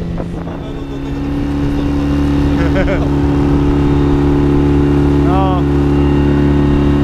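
Storm 13.5 two-stroke outboard motor running on a boat, a loud, steady, close droning hum that holds throughout, with a brief spoken word early on.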